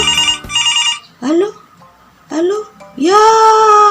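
A telephone ringing in bursts of bright electronic ringtone, loud and close, broken by short gaps with a voice and other voices.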